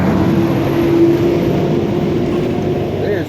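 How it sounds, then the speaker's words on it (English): A loud garbage truck passes close by with a steady, jet-like engine roar and a rumbling low end that holds strong for the full three seconds, easing off slightly near the end. "there's nothing in this world louder than a flipping garbage truck. It sounds like a damn jet flying by."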